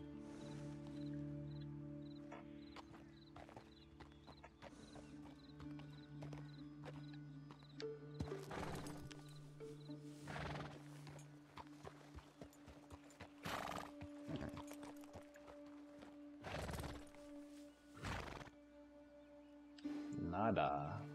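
A horse in the video game Red Dead Redemption 2 clip-clops along with steady hoofbeats and lets out loud whinnies, while a player talks over the game audio.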